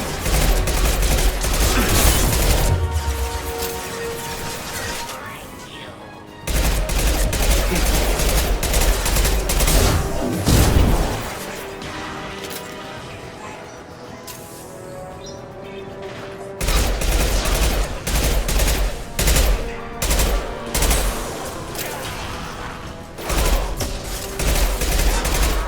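Heavy sustained gunfire in the video game Mass Effect 2, long loud volleys of rapid shots with brief pauses, booming low impacts and dense battle noise throughout.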